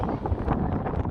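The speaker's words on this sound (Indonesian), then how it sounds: "Anginnya sangat kencang." Strong wind buffets the microphone on a beach in Cornwall, making a loud, continuous, gusting roar up close throughout.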